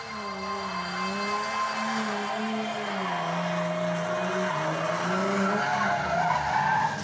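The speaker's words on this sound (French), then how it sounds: "Nous étions là pour la première épreuve officielle de drift du pays." Drift cars at an official drift competition in Morocco, engines roaring with long, wavering tire squeals and skidding, loud and sustained throughout.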